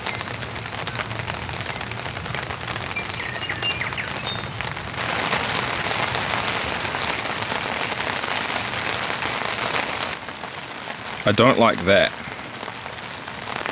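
Heavy rain pelts a winter tent beside a river, a dense, continuous patter that swells louder midway, with a brief sharper clatter near the end and a short spoken comment under the downpour.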